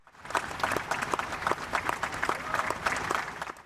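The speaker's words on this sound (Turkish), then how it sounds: "Filistin'i yok sayan anlaşmayı böyle alkışladılar." Audience applause at the White House signing of the normalization agreement between Israel, the UAE and Bahrain, a steady dense clapping that fills the room with scattered sharper claps throughout, with no talk over it.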